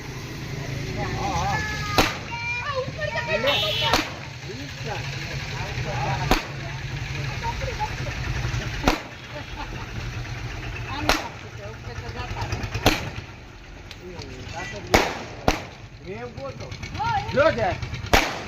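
Diwali firecrackers go off in a run of sharp, loud bangs spaced a second or two apart over a steady engine-like rumble, with voices talking in between.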